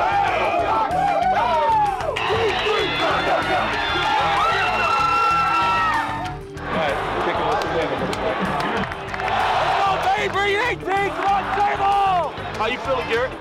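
Loud football crowd cheering for the Oregon Ducks in a stadium, a roaring sustained wall of voices and shouts with a brief dip midway, close announcer-style talk and whistles riding over the noise.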